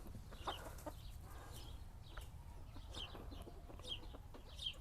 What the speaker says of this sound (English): Heard the rooster crow.